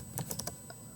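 Several quick, crisp clicks of typing on a computer keyboard, close and fairly quiet, in a short irregular burst with no voices.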